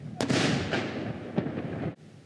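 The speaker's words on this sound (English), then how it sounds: "The defenders of the peninsula were commemorated by 12 cannon salvos." Ceremonial cannon salvo fired at a remembrance ceremony for the peninsula's defenders in Poland: a loud, booming blast with a long rolling echo, followed by further thumps, heard alone outdoors.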